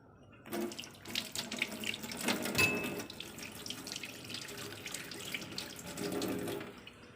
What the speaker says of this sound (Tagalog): Yung unang kulo po, itatapon po natin.